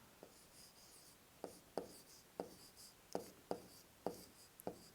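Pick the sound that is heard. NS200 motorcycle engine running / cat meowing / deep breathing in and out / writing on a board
writing on a board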